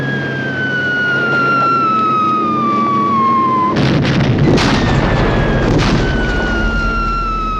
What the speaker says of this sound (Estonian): Punaväe lennukid pommitavad julmalt Tartut.